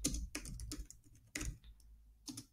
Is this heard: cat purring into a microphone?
no